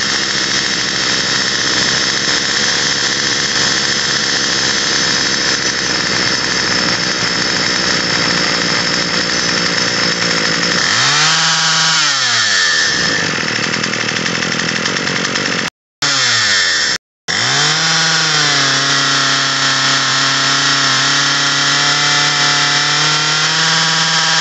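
A Troy-Bilt TB22EC string trimmer with a new carburetor runs steadily at a high whine, then briefly drops in pitch and dips in and out before roaring back up during idle adjustment, loud and close with no talking.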